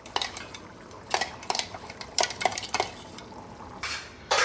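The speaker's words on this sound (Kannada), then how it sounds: "ರುಬ್ಕೊಂಡಿರೋ ಅಂಥ ಕಾಳನ್ನ ಈಗ ಮಿಕ್ಸ್ ಮಾಡ್ತಾ ಇದ್ದೀವಿ" Cooked, ground chickpeas being stirred into a masala gravy for chana masala, with a utensil scraping and clinking against the pan in repeated bursts, close and fairly quiet.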